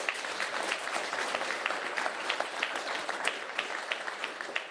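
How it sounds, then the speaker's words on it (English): Audience applause at an award event honoring farmworkers, a steady dense wash of many hands clapping at moderate volume throughout, with a few sharper individual claps standing out. "So let's give them a round of applause."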